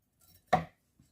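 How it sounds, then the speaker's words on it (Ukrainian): A single crisp knife cut through bell pepper on a cutting board while slicing it into thin strips for Korean-style eggplant, close and clear, with faint soft taps before and after. "І ми нарізаємо перчик."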